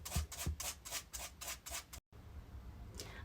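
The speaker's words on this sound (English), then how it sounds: "So I'm just going to sand that off." Scuffed leather shoes being sanded by hand: about eight quick, rhythmic abrasive strokes close up, then a brief pause and a quieter scratchy tail.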